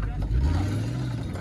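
A Cadillac CTS with its exhaust fallen off runs loud, a deep, rough low-pitched engine drone held steady and close, with a voice speaking briefly over it.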